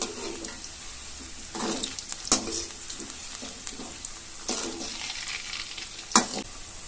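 Cauliflower 65 deep-frying in hot oil and being turned, a quiet bubbling sizzle broken by several sharp scrapes and clinks of the spoon, with pigeons cooing faintly in the background.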